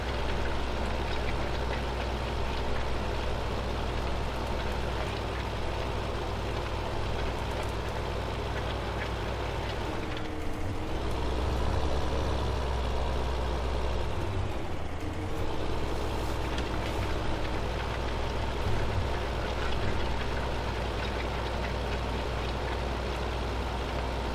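A heavy Farming Simulator 2015 tractor engine rumbles continuously at steady volume, labouring with a deep throb as it pulls a Vogel & Noot implement, its tone shifting briefly midway before settling back.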